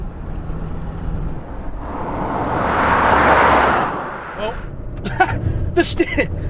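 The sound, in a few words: 2007 Ford Ranger Thunder pickup driving uphill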